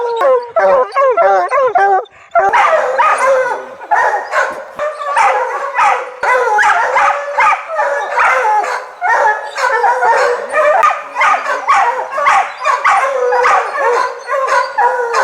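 A pack of hunting dogs on a long bear chase bays and yelps continuously in an excited, overlapping chorus, loud and close, with a drawn-out howl at the start.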